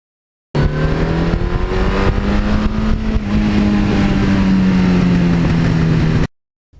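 A 1982 Suzuki GS1100E motorcycle engine runs at a steady high rev for several seconds under an opened throttle, pitch drifting slightly up then easing. It is loud and close, with no talk.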